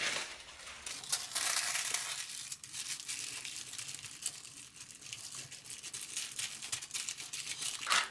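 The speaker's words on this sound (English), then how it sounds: "I'm going to use some tissue paper just to take this background paint off" Tissue paper rubbed and wiped across a gelli plate to lift background paint gives steady, close crinkling and rustling, continuous for the whole stretch with small surges in intensity and no talk.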